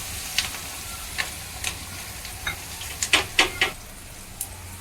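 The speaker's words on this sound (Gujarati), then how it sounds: "હવે આને સરસ મજાનું હલાવી નાખશું અને થોડીક વાર ધીમા ગેસ ઉપર પાકવા દઈશું" Onions and green chillies with turmeric fry in a pan for sambar, a continuous sizzle broken by repeated sharp scrapes of a spoon, bunching into a quick run of stirs near the end.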